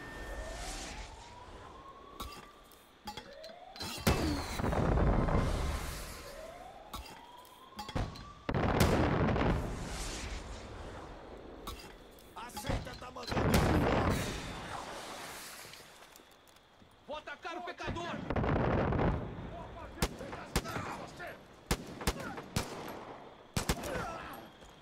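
Bursts of gunfire crackle repeatedly in Far Cry 5, mixed with rising siren-like sweeps and heavy impacts, while voices talk over the shooting.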